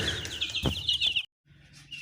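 Aseel chickens, a rooster and a black hen, on a poultry farm in Pakistan: brief run of nasal clucking calls, fairly faint and close, followed by a short pause and quieter low background noise.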